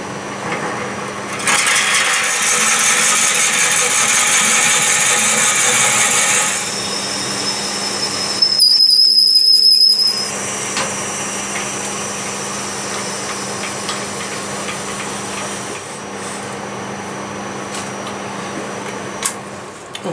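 A 16 mm hole is drilled in yew wood on a lathe, a loud continuous machine whine with a brief sharper burst midway, then a steady running hum to the end.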